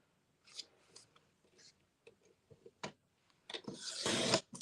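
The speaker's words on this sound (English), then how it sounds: "we are going to cut at 9 inches" Scissors snipping craft paper for a St. Patrick's Day project, a few short dry cuts and rustles building to a longer, louder cutting and paper-handling burst at the end.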